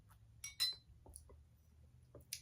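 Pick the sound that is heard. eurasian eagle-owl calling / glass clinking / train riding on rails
glass clinking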